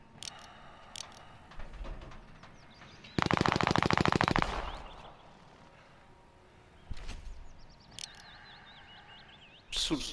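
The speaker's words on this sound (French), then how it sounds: "Derrière ça tire." Automatic gunfire in Call of Duty Modern Warfare: a long loud burst of rapid machine-gun shots and scattered single shots, with game sounds and brief voices around them.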